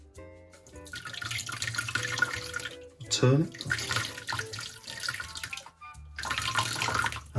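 Hot water from a kettle pours over a glass bottle being cut by hand, a steady splashing stream that breaks off, returns after a short pause, stops again and resumes, with someone speaking briefly over it.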